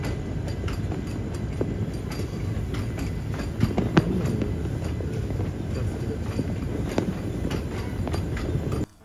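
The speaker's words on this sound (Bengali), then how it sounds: "আমাদের ট্রেন হাওড়া থেকে 93 কিলোমিটার দূরত্ব অতিক্রম করে এসে পৌঁছল সীতাভোগ মিহিদানার জন্য বিখ্যাত বর্ধমানে।" Kalka Mail passenger train rolling on rails, a steady low rumble with faint rhythmic wheel clicks throughout, heard from inside the coach, ending abruptly.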